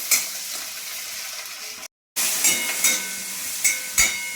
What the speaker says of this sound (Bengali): পেঁয়াজটা একটু ভালো করে ভেজে নিই।